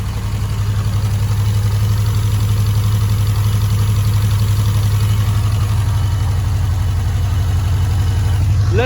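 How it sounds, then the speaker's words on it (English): Mitsubishi Evolution 4 engine idling steadily with the sump off and a new timing belt fitted, a loud, continuous low rumble held close with no talk over it. "Let's let it idle for a bit and see what happens."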